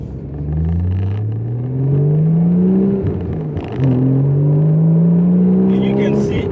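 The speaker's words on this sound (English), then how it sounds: "you always want to have the engine scream for you" A Porsche 981 Cayman S engine revs up through gears from inside the cabin, rising pitch sweeps climbing, dropping at a shift, then climbing again, loud and close, with a voice speaking briefly over it.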